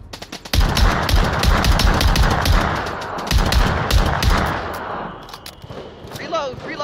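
Heavy gunfire erupts in Onward, a VR shooter match between H3LL FROM ABOVE and Cold Steel, with loud rapid automatic bursts cracking close by for several seconds before thinning out, mixed with faint voice chatter.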